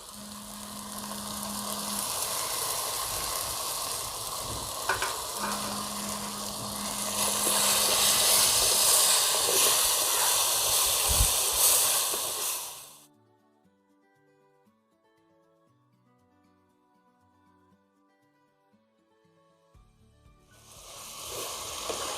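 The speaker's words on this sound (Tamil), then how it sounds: "இப்போ நம்ம அரைச்சி வச்சுருக்க தக்காளி விழுதை ஆட் பண்ணிக்கலாம்." Loud frying sizzle comes from a hot pan as ground tomato paste is added for a village-style tilapia fish curry, lasting about thirteen seconds before dropping to near silence and then sizzling again.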